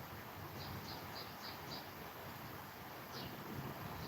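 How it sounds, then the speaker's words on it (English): Wind blowing outdoors, a steady faint rushing roar buffeting the microphone throughout, with a few soft higher chirps over it. "there is a lot of wind down here, or up here."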